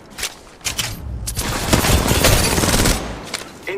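Gunfire in the mobile battle game Apex Legends Mobile, with energy weapons, rattles out in rapid automatic bursts, loud and close, a dense sustained volley in the middle flanked by shorter shots.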